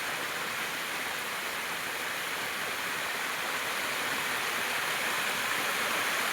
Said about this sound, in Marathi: इथून एक पण छोटा धबधबा वाहत आहे